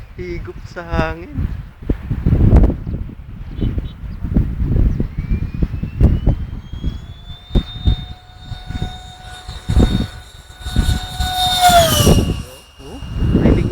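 A fast jet engine whines with a rising, sustained high-pitched tone as it sucks in air, close and loud, while people talk over the rumbling roar.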